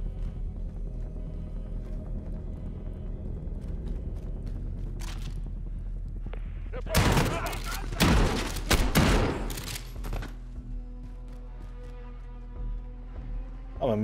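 Shotgun blasts in Call of Duty: Modern Warfare during an embassy mission, a close burst of heavy shots packed into a few seconds mid-clip, rising loud over a steady low game ambience with voices around it.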